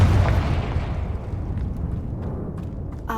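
A Confringo blasting spell detonates in Hogwarts Legacy with a loud, close boom that decays into a long rumbling tail, ending in a brief crackle.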